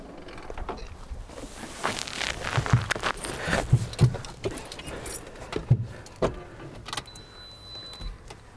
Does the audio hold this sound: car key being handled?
yes